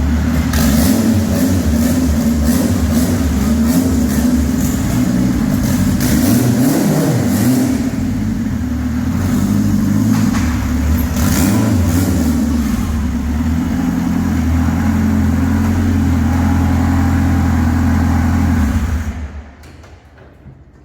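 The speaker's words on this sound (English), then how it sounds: "We finally are ready to pull it up onto the dyno." A K24-swapped Honda Civic engine idles and revs loudly and continuously at close range as the car is driven onto a dyno, then stops abruptly near the end.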